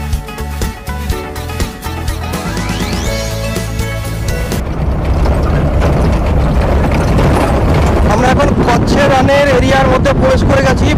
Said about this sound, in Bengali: প্রচন্ড হাওয়া বইছে।